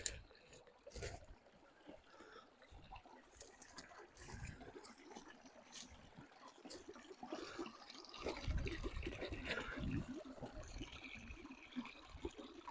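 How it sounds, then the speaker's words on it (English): A creek below a cabin site trickles and splashes faintly in the background, with scattered clicks and bumps layered over the gentle flowing sound. "This is the creek that flows right below our cabin site"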